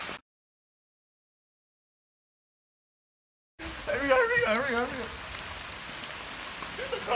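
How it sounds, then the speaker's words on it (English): After a stretch of silence, the steady hiss of falling rain begins, with voices talking over it. "It's raining outside."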